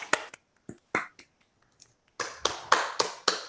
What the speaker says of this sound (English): I'll unmute everyone so we can clap